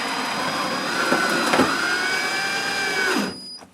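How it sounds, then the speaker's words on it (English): A power drill whines steadily, strains and drops in pitch a couple of times as it bites into metal, then spins down and stops near the end. "If you notice the drill bogged down when that hit"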